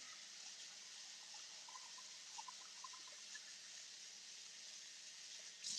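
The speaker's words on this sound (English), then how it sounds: "rinsing my potatoes here" Tap water runs steadily into a kitchen sink as potatoes are rinsed, a continuous soft hiss with small splashes, faint and alone.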